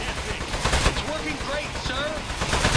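Rapid gunfire in the video game Aperture Desk Job, a dense rattle of repeated shots with metallic pings over game sounds, and a voice speaks briefly.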